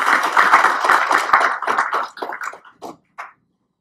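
Senior citizens at a yoga camp in Canada clap together, a close group of quick claps that thin out into a few scattered final claps before silence.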